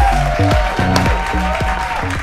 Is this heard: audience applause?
yes